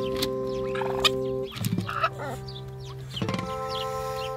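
Farmyard chickens cluck and squawk in short bursts over a steady low hum, with a few louder calls close by and fainter bird sounds around them.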